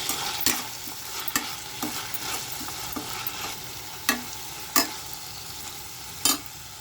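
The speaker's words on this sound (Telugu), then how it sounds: "దొండకాయ ఫ్రై చేస్తున్నాను" Ivy gourd (tindora) fries in a pan with a steady sizzle, while a spatula scrapes and taps against the pan at irregular intervals and a few louder strokes stand out.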